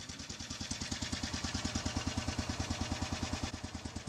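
A Royal Enfield Bullet single-cylinder motorcycle engine runs at a steady, slow thump, each beat distinct and evenly spaced. It sounds moderately close and fairly quiet, with no voices over it.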